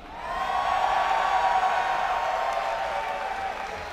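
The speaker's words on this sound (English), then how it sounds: "Cheer for him if you want him to win." Crowd at a StarCraft tournament cheering and applauding for a player, a steady broadband roar of clapping and voices that swells quickly and holds loud throughout.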